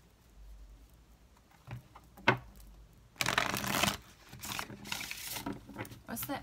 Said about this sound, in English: I'm just going to shuffle and lay them out